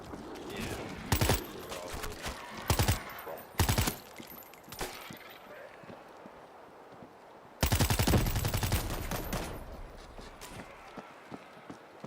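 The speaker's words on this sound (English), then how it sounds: "Gunfire up ahead." Gunfire bursts in the zombie shooter game World War Z: several sharp volleys of shots ring out, with a long dense burst in the middle, over a steady background of game noise.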